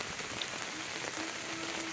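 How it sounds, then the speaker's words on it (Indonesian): Rain falling at a riverside campsite near Bogor, a steady, even patter on surfaces around the tents with no pauses, soft and fairly distant. "itulah turun hujan"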